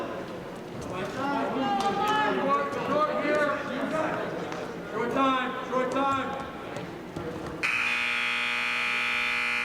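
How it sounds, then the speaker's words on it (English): A loud, sustained electronic buzzer ends a bout at a high school varsity wrestling match, sounding steadily for about two seconds after an announcer talks over crowd noise. "Now there's the buzzer at the end of"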